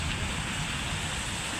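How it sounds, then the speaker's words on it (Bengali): Heavy rain falls amid strong wind, a dense and steady roar that stays even and loud throughout the brief stretch, with no voices. "আবার বৃষ্টি"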